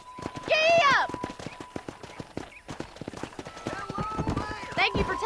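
Horse hooves pound rapidly in the Red Dead Redemption video game as the animal breaks into a gallop, close and steady, with a loud whinny at the start and another near the end.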